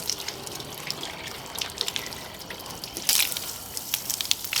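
Deionized rinse water from a hose at full blast hisses and splashes steadily at moderate volume, with a brief stronger burst of spray partway through and no talking.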